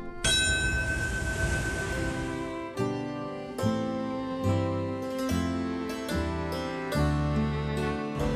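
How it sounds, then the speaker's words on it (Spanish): Large bells toll repeatedly at a September 11 memorial ceremony, their rich ringing strikes overlapping and sustaining in a resonant wash, loud and continuous with no talking. "Campanadas y un minuto de silencio marcaron la hora"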